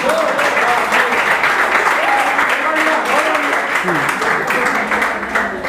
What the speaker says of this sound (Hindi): एक बार जोरदार तालियां मेरे लिए ही बजा दें